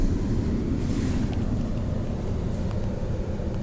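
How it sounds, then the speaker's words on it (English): The climate control fan runs inside a Honda Odyssey LX minivan, a steady, even blowing rush that fills the cabin without talk. "We're gonna turn down the fan speed here quick."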